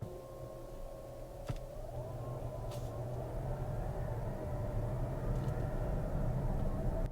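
A 2024 Mazda CX-60 plug-in hybrid shifting into drive and pulling away, giving a faint, steady mechanical drivetrain whir and hum inside the cabin that builds slightly as it moves off, with a couple of soft clicks.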